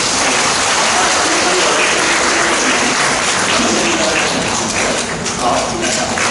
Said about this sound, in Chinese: 为他们鼓掌和欣赏。